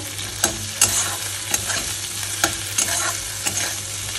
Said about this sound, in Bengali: একটু হলুদ দেব সামান্য, দিয়ে এটাকে ভালো করে কষাবো।